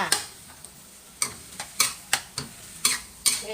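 Spatula scrapes and taps against a wok while zucchini with egg is stir-fried with sugar, green-cap seasoning sauce and oyster sauce, sharp clacks landing in an uneven rhythm of about eight strikes over a soft sizzle, no voices.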